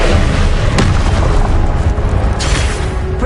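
A Confringo spell explodes in Hogwarts Legacy with a loud, heavy booming blast, followed by a sustained roaring, rumbling wash of sound that fills the short stretch close up.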